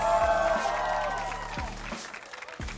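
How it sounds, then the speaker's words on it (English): A crowd cheers and claps in an esports arena at an LCS League of Legends match, a loud sustained roar that fades a little, with a voice speaking over it. "The crowd is ready,"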